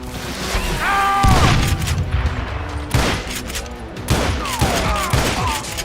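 Volleys of gunfire in the Wild West shooter Call of Juarez: Gunslinger, loud repeated shots and booms rolling across the scene at a steady, heavy rhythm with no voices over them.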